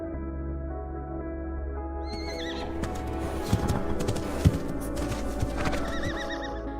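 A young horse neighs and whinnies loudly several times, with hooves clip-clopping and thudding in sharp irregular knocks while it struggles against being led away.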